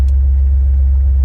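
A car engine idling on new Moore motor mounts, with an aftermarket exhaust and known exhaust and evap leaks; a steady, deep, loud rumble heard from inside the car, with no talk.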